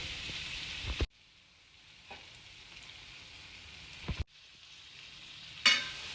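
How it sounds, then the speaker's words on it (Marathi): Masala frying in oil for rajma, a low steady sizzle with a few sharp clatters of stirring, the pan sound dropping quiet between them; no voices. "छानपैकी तेल सुटेपर्यंत आपल्याला हा छान परतून घ्यायचा आहे"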